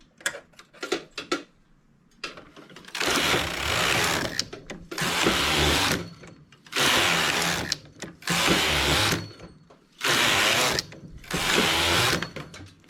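A knitting machine carriage works a tubular piece, making repeated long rasping sweeps across the needle bed, about six passes with short clicking pauses between them.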